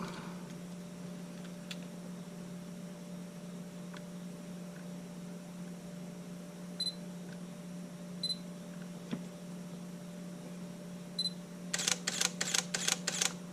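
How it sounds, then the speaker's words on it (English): Shutter of a Sony A7S2 camera, a few isolated clicks spaced apart and then a rapid burst of about five quick shutter snaps at the end, over a low steady electrical hum. "shutter sounds good"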